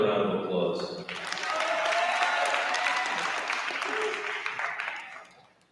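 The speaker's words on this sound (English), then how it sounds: "Give him another round of applause." Audience applause for a lifter at a state powerlifting championship awards ceremony, a broad sustained roll of clapping under voices from the crowd, swelling and then fading out toward the end.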